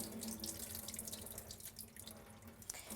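Water runs steadily from a tap into a bowl of rice being rinsed, a bright continuous splashing that swirls over the grains, close and unbroken, with no voices.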